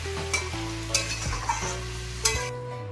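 Pumpkin curry sizzles and bubbles in a pan after a little water is added, with a steady close frying hiss and occasional spoon scrapes and clinks against the pan.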